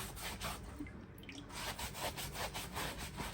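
A loofah soaked in hot water is rubbed firmly over skin in repeated scrubbing strokes with a wet, rasping texture, close and steady throughout, no talking.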